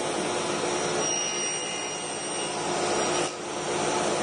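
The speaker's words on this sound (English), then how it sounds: "Dust extractor on." A dust extractor and a saw blade run together in a woodworking shop while a box-making template is cut, a loud steady whooshing drone with a brief dip near the end.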